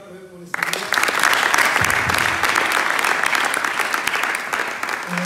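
A church congregation at a Sunday worship service breaks into loud, sustained applause and cheering after a brief quieter moment, with the clapping filling the room until the end.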